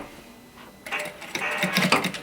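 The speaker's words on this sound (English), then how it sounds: "just do a little row of tacking stitches there just to hold it together while I attach it to the skirt" A sewing machine stitches a short row of tacking stitches to hold a placket in place before it is attached to a skirt, starting after a quiet moment and running in a close, steady mechanical burst of needle clatter.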